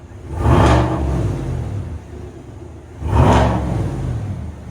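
A 2022 Chevy Silverado LT with a 5.3L V8 and Borla ATAK exhaust revs twice, each rise swelling into a loud, deep exhaust roar before settling back to a rumbling idle, heard up close.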